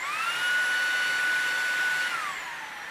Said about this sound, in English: here comes Eco Mode on both of these vacuums